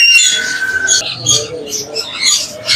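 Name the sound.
pair of chattering lories calling at bird market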